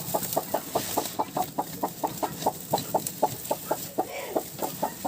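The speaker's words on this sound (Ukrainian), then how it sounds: "Обережно руку засовуєте під насідку, берете її за дві лапки і обережно дістаєте з яєць." A broody hen clucks in a steady, rapid series of close, distinct calls while being lifted by the legs off a clutch of fifteen turkey eggs she is incubating.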